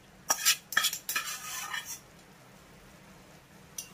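A utensil scrapes and clinks in a pan while spices are stirred into tomato and rice, giving a few quick close strokes that fade into quiet, followed by one last faint tap.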